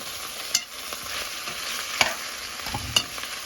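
Chicken stew frying in oil in a pan, with a steady soft sizzle and a few sharp stirring clatters spaced about a second apart.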